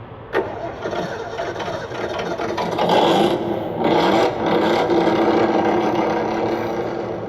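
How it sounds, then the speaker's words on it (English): A simulated engine from an ESS ONE+ RC sound module cranks and fires up, a raspy electronic starter whine building into a rough, rumbling run. "I should hit the trigger and it should go into an ignition sound scheme."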